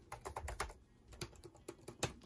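Keys clatter on an Acer Nitro 5 gaming laptop keyboard, with quick, close, crisp keystrokes in uneven bursts and short pauses, and no voices.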